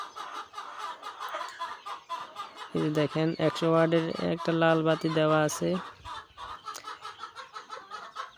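Young chicks, chickens or quail, peep and chirp in a dense chorus beneath a red heat lamp in winter, a close, steady twittering with a louder burst mid-way while someone talks over it.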